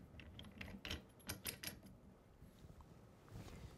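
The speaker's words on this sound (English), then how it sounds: "I'm going to screw the feet into the slider" Feet being screwed onto a Konova K5 motorized camera slider, giving a few soft clicking, ratcheting mechanical turns close up over a faint background hiss.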